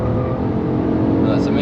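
A GTI TCR car engine with its stock exhaust hums steadily and fairly quietly, with a brief brighter whine near the end.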